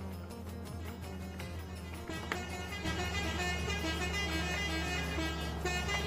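A loud, sustained bus air horn blares continuously over a low engine rumble in Euro Truck Simulator 2 on a Magirus M2000, growing slightly louder partway through, with no talking.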